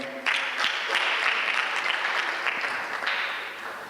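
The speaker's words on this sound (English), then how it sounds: "Let's give a round of applause to Dr. Muga." A room at an international healthcare conference bursts into applause after a presentation, a steady wash of many hands clapping for a few seconds before gradually thinning out.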